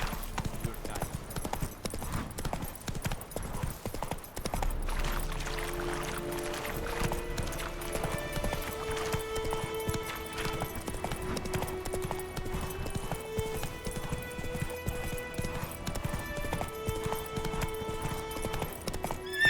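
Roach, a horse in The Witcher 3, gallops with a steady run of hoofbeats under layered game music, and the sound stays at a moderate level throughout.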